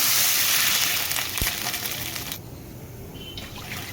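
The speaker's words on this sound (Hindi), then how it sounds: "यहां मैं इसमें ये 2 कप पानी डालूंगी।" Two cups of water pour into a pan while cooking a semolina breakfast dish, a loud steady splashing rush for over two seconds that then drops to a quieter trickle.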